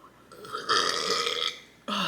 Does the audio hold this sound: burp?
yes